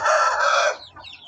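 A single chicken gives a short, loud cluck up close, fading quickly into quiet.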